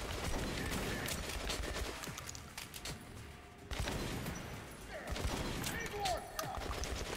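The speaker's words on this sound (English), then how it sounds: "So, I'm just gonna be using the shotgun." Shotgun blasts in Metro Last Light, a dense run of loud close gunfire bursts with impacts and mechanical clatter filling the whole stretch, easing briefly midway before the shooting picks back up.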